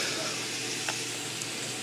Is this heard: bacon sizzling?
yes